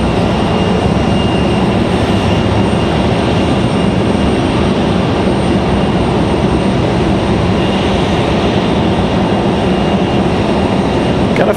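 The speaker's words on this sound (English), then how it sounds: "Got an A319 from American Airlines on the way out." An American Airlines Airbus A319 jet departs in the heat, its broadband engine roar steady and loud throughout with no break or fade.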